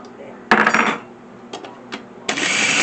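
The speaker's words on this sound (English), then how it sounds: "She's going to grind hers up because it's easier to eat." A small kitchen grinder chops up cooked steak in short, loud whirring bursts broken by clinks and rattles of utensils and dishes. The pulses are close and uneven, and there is no clear speech.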